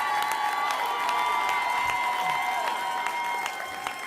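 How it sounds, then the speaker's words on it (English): Dense, continuous applause and cheering from a large crowd at a political speech by Governor Cuomo, steady and loud throughout with scattered whoops and shouts mixed in. "Let's give them a round of applause."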